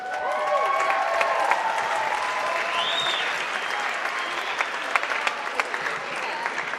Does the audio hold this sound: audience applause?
yes